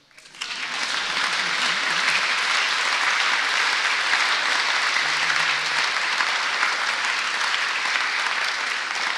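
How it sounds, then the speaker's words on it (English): Applause at a congressional statue dedication ceremony honoring Ponca Chief Standing Bear, a dense, loud, sustained roar of clapping that swells in quickly and holds evenly. "And that is an applause line."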